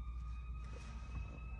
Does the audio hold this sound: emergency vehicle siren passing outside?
yes